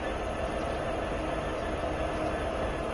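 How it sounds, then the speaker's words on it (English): Steady diesel rumble of an SD70ACE locomotive in Train Simulator 3, a continuous broadband engine and rail drone holding constant and fairly loud throughout with no pauses or speech. "Gina is an SD70ACE locomotive."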